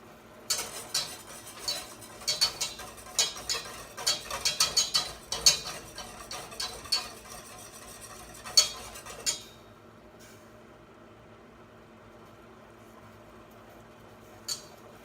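Spoon or utensil scraping and clinking against a pot as food is stirred during home cooking, a run of close, irregular taps and scrapes that fades into quiet near the end.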